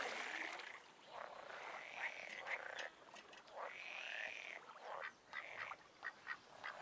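Toad croaking in the fishing game Fisher Online at a carp swim in Czechoslovakia, a run of repeated nasal, rasping calls in uneven bursts over steady background ambience, fairly faint and with no talk.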